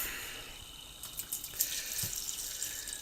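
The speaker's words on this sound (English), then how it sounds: "I'm going to put the water in this pan." Hot water splashes and trickles into a pan, a soft hissing pour that grows a little louder partway through, with no talking.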